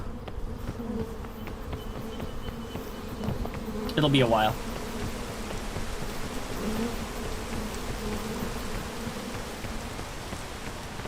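Swarming bees buzz through a video game scene, a steady insect drone running the whole stretch with a brief louder burst near the middle, while a voice talks lightly over it.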